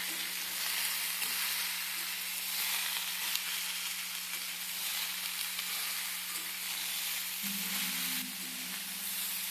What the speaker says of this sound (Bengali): ফোড়নটা যেই ভাজা ভাজা হয়ে গেছে তখন আমি ফুলকপি, গাজর, ক্যাপসিকাম, বিনস, আলু সব দিয়ে ভাজা ভাজা করব।